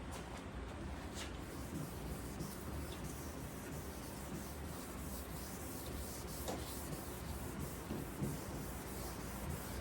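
A 3M 1000-grit block rubs back and forth over car paint on a 1985 Jeep CJ7 panel, giving a soft, continuous scratchy sanding close by, with no talking.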